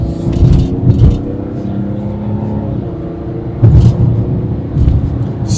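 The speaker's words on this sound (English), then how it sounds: "we will give it some gas and let you hear the engine" A 2025 Mazda CX-70 Turbo S engine growls under acceleration, loud and close, with surges of revving and road rumble while the SUV picks up speed.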